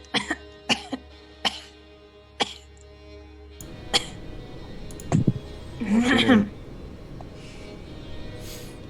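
Someone coughs repeatedly in short sharp bursts, several spaced coughs followed by a harsher throat-clearing fit, close to the microphone with a little voice mixed in.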